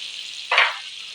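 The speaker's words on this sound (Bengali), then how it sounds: "আমি রসুন কুচিটা দিয়ে দেবো।" Chopped garlic hits hot oil in a pan, producing a sudden brief burst of sizzle that flares and fades within a fraction of a second over a faint, steady background hiss.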